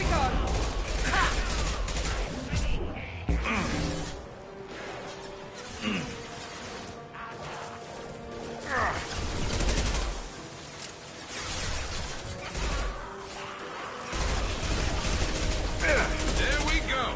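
Heavy weapons firing in the video game Mass Effect, with booming blasts and crashing impacts recurring in waves across the stretch, punctuated by mechanical whirs, while a player talks over the combat.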